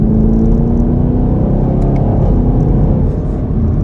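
A 2021 Chevrolet Camaro with the LT1 V8 drives along, its engine a loud, steady low rumble heard from inside the cabin, with a faint whirring drone and no talk.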